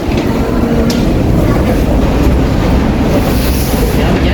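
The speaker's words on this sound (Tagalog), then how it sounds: "Underground train kasi ito eh." A London Underground train on the Northern Line near Tottenham Court Road, heard as a loud, steady rumble and roar of the carriage in motion, continuous throughout with no clear speech over it.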